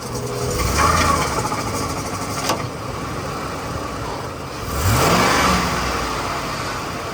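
A car engine droning and labouring, with rough revving surges and a strained rise in pitch partway through, struggling when shifted into drive or reverse, likely from a transmission fault.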